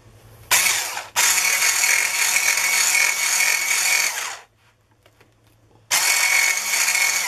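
A hand whisk whisking golden syrup cake batter: a continuous whirring, geared churn, loud and close, running in two long stretches separated by a pause of about a second and a half, with no talking.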